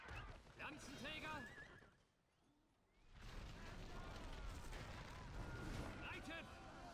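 Horses whinny in the Battle for Middle-earth 2 game, several neighs rising over clattering hooves and battle noise, with a brief quieter gap in the middle and game voices speaking.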